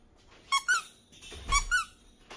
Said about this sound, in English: It squeaks too.